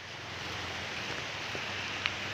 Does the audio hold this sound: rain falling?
yes